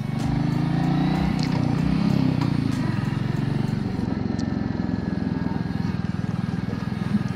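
A motorcycle rides along a road, its engine a loud, continuous throbbing drone with a rapid pulsing beat, heard close up and steady throughout with wind rush.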